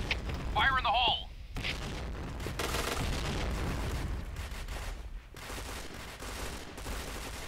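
Grenade blasts in the shooter game Point Blank come as repeated rumbling booms and bursts of gunfire under a busy mix of game sounds, with a brief synthetic chirp near the start and a voice calling out.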